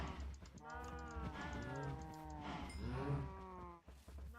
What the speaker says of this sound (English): Come on, cows. Do your thing.